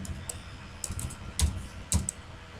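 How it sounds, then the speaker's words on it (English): Close, crisp computer keyboard typing during a web browser search: irregular bursts of clicking keystrokes with a couple of heavier thumps, no voices. "I am typing this"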